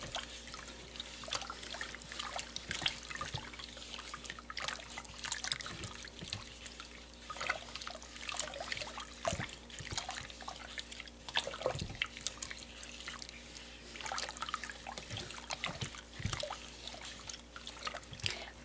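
Hot water trickles and drips steadily while salt dissolves in lye for a batch of salt soap, with faint, close liquid sounds and small splashes running throughout and no talking.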